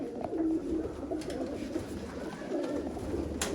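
Sialkoti pigeons, teddy-type breeding pairs, coo softly in repeated low rolling calls close by, with no talking over them.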